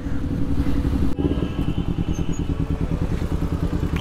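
A misfiring KTM Duke 390 motorcycle engine idles and pulses roughly with an uneven, stuttering beat, close by and loud, with a brief clatter near the start.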